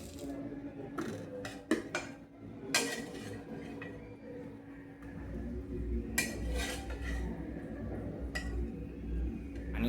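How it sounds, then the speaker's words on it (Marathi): A spoon works pasta through red sauce in a pan, giving scattered metallic clinks and taps against the pan over a low, steady kitchen background, with no voices. "आणि आता हा या सॉसमध्ये व्यवस्थित मिक्स करून घ्यायचा आहे."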